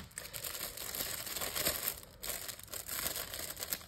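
Paper budget envelopes are handled up close, giving a steady crinkling and rustling with occasional soft tearing-like scrapes and no voice over it.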